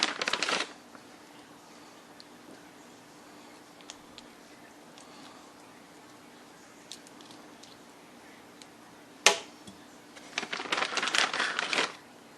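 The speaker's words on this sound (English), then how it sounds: "peel it off, give the tail a pinch, and it's good" Shells are peeled off raw shrimp and the tails pinched away, making close, crackly bursts of rustling at the start, one sharp snap in the middle and a longer stretch of crinkling near the end, separated by a quiet pause.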